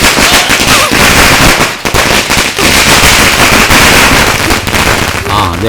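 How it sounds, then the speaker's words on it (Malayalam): Firecrackers burst in a long, rapid string, a loud and nearly continuous crackling of sharp pops with a short break partway through. "പടക്കം പൊട്ടുമല്ല ടപ ടപ ടപ"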